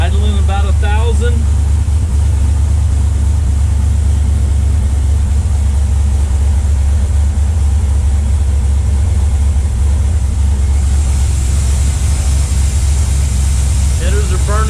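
An LS V8 engine fitted with a Holley Terminator X idles steadily after its first start, a loud, constant low rumble throughout, with a voice speaking briefly near the start and end.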